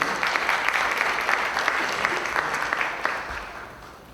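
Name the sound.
audience applause at luncheon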